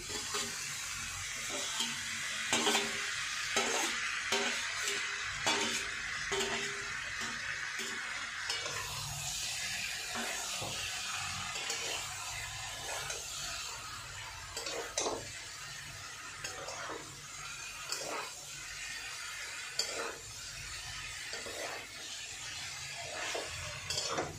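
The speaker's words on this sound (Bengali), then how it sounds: "এই যে এবার আমি মাছগুলো দিয়ে আর একটু নাড়াচাড়া করে নেব।" Kachki fish pieces go into a pan of spiced potato and are stirred, with a continuous soft sizzle and repeated scraping, clinking spatula strokes at an even rhythm, close and moderately loud, with no voices.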